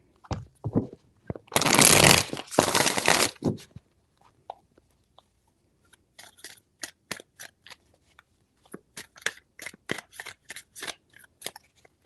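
Tarot cards being shuffled by hand, a loud riffling burst near the start followed by a long series of quick crisp flicks and slaps, close and otherwise quiet.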